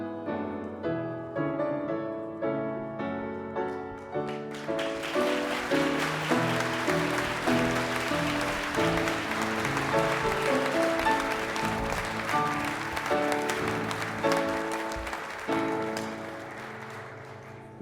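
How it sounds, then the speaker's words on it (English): An audience at a distinguished alumni service awards event breaks into sustained clapping for a group of students. The broad wash of applause rises over piano-like music that plays throughout and carries on under it. "Once again, let's give them a round of applause."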